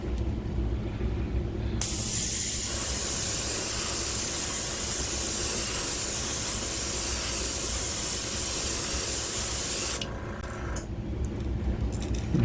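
Spray gun laying a light white base coat of paint on a fishing lure, a steady close hiss that starts abruptly, holds for about eight seconds and stops, with quieter background before and after.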